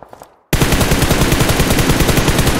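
Rapid automatic gunfire from a multiplayer shooter video game starts abruptly after a short quiet moment and continues as a loud, dense stream of shots to the end.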